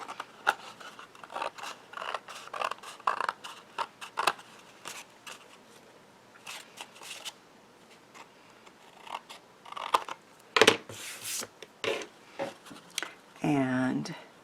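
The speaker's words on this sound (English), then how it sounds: "I will trim off to make these line up to place on the front of our card." Scissors snip and trim paper pieces for the front of a handmade card, a series of close, crisp cuts in irregular bursts with quiet pauses, some paper rustling and handling noises mixed in.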